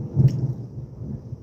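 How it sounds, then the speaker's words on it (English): Thunder from a storm rolls as a low, deep rumble that swells early and then fades, fairly loud, with faint rain-like hiss above it and no talking. "y'all hear that thunder?"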